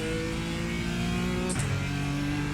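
A BMW M4 GT4 race car engine in iRacing drones steadily at high revs with a raspy exhaust tone, briefly dropping pitch on a gear change before climbing again.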